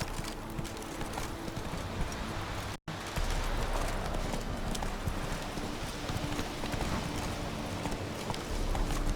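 A horse gallops with rapid, rhythmic hoofbeats in The Witcher 3: Wild Hunt. The hooves sound close and steady under a dense ambient wash and pause only for a split-second gap.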